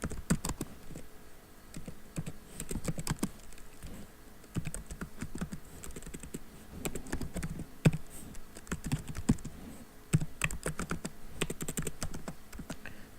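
Steady, rapid typing on a computer keyboard fills the stretch, with dense clattering keystrokes and brief pauses, close and clear, no voices.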